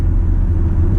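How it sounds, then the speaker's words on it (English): A BMW X3 M40i with the B58 engine lets out a deep, low exhaust fart on an upshift under throttle, a brief loud rumbling burst heard up close. "there's the big giant fart that happens every time you upshift on throttle"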